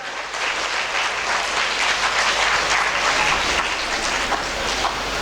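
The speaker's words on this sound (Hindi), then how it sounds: "इरफान साहब के लिए ज़ोरदार तालियां की जाए" Loud, sustained applause from an audience at an academy ceremony honouring top-ranking students, a dense wash of clapping held steady and close for the whole stretch with no voices over it.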